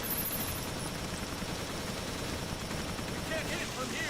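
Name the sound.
turret gunfire in the video game Resident Evil Revelations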